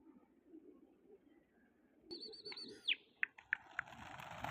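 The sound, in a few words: pigeons flying, wings flapping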